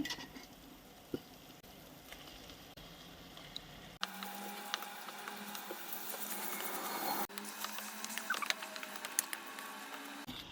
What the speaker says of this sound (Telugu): ఇలా ఫ్రై అయిన తర్వాత దీంట్లోకి లివర్స్ వేసుకుందాము